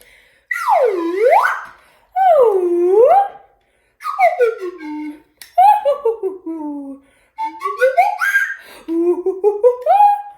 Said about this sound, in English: Slide whistle time.